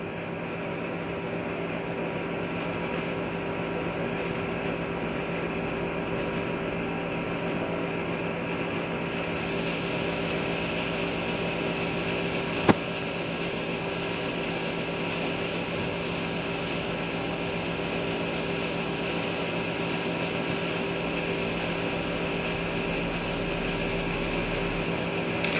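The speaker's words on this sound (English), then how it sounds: "If y'all hear a sound in this, like a that's just my air conditioner" A home air conditioner hums steadily in a kitchen, a constant, even mechanical drone that fills the whole stretch with one faint click midway.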